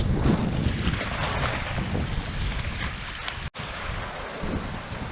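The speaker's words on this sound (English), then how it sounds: "where I've decided to set up shop, the waves are coming over" Waves break over a reef on an exposed shoreline, a loud continuous roar and wash buffeted by heavy wind on the microphone, with one brief dropout near the end.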